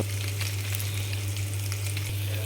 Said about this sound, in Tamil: இந்த பொடியை போட்டு நல்லா கிளறி விட்டால்